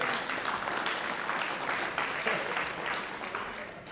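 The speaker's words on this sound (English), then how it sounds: "Yes, yes, we can clap that up." Applause from an audience at a city state-of-the-city address, a modest sustained round of clapping heard from a distance in a large hall, fairly even and moderately quiet throughout.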